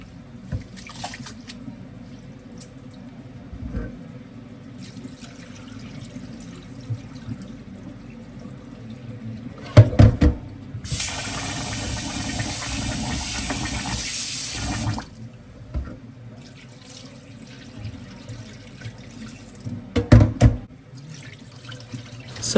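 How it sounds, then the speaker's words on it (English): Rice is washed in water in a kitchen while preparing Ghana jollof rice. Soft swishing and handling sounds lead to a loud burst of running tap water for a few seconds, followed by quieter splashing and clinks. "go ahead and wash your rice."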